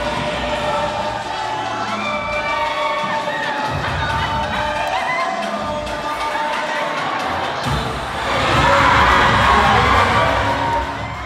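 Wedding guests at a cultural wedding in New Zealand cheer and shout as a dense crowd roar, swelling louder toward the end as dancers come in.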